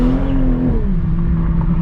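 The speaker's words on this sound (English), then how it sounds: "my god, it breaks the tires loose so easily." A 2021 Toyota Supra engine with a JB4 tune roars loudly up close with a brief high-pitched tire squeal as the wheels break loose under hard acceleration.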